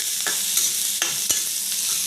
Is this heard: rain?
no